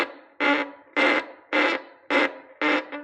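A bowed string instrument played with a firm bow hold gives six short, evenly spaced strokes, each a rough, gritty tone of equal loudness and length, with brief gaps between them.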